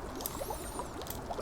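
Oil bubbles as a container fills in the video game Conan Exiles during a castle build. Soft, continuous burbling and pouring sounds run throughout.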